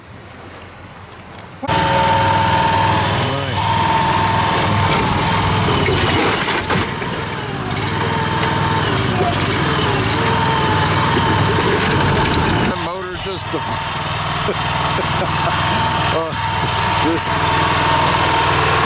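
A small motor near a rocky corner by a solar storage shed starts and keeps running with a droning engine tone, loud and steady, briefly dipping partway through before picking back up.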